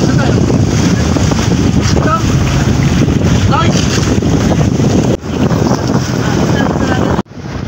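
A passenger boat travels out on the sea, its engine droning steadily under heavy wind buffeting and splashing water, loud and continuous with a brief dropout near the end.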